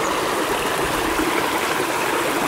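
A small stream flows steadily beside woodland on a rural plot, its continuous close rushing and trickling water filling the whole stretch without pause or voices.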